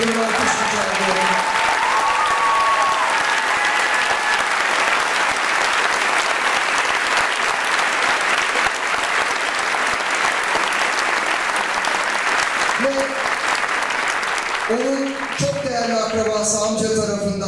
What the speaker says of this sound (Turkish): Gazi Mustafa Kemal Atatürk'e bir alkış rica ediyorum.